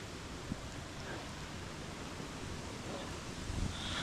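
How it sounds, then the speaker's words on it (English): Heavy rush of a waterfall swollen by overnight rain, a loud, continuous broadband roar with no voices, steady throughout with a slight swell near the end. "lots of water coming over the waterfall. It's quite loud."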